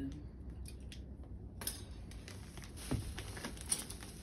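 Spoons, forks and knives clink together as they are handled, with quiet, scattered metallic taps and a few sharper clatters close by.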